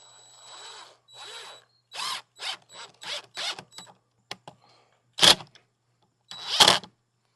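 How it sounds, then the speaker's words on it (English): A screw is driven into the top of a bird feeder camera mount with a power driver, heard as several short whirring bursts and pauses, close by, ending in two louder, sharper clicks. "I'm going to screw it right into the top here"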